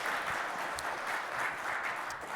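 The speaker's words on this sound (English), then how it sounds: "have a round of applause for Dushyant." Sustained applause from a conference audience after a cybersecurity talk, a steady dense wash of clapping from a large room that carries on without a break.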